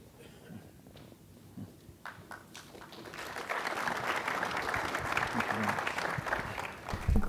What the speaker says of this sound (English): thank you, panel, for starting the clapping